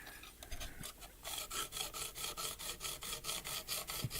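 A knife blade is drawn across a coarse sharpening stone in quick, even rasping strokes, a few slower passes first and then a steady rhythm of close, soft grinding scrapes with no speech.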